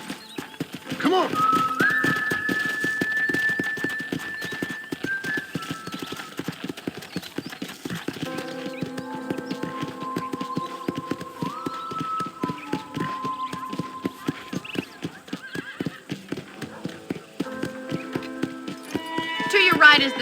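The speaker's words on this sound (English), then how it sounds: "I picked out a fine horse for you." Horse hooves clip-clop in a rapid, steady rhythm throughout a Red Dead Redemption ranch ride, close and constant under background music and snatches of speech.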